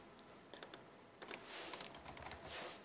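Quiet, close keystrokes on a computer keyboard come in uneven bursts of light clicks, some quick runs and some isolated taps, with no voices.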